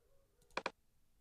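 A computer mouse clicking while a teacher works through an activity archive menu in a Seesaw classroom app: two quick, close clicks in a row, crisp and isolated against faint room quiet.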